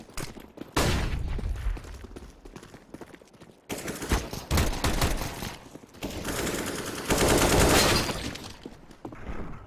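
Rapid automatic gunfire sprays in a tactical shooter game, with dense continuous bursts broken by short pauses and loud, close, sustained fire across nearly ten seconds.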